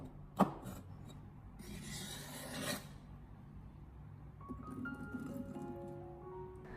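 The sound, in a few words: knife dicing green chili peppers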